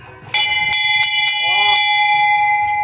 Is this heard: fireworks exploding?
no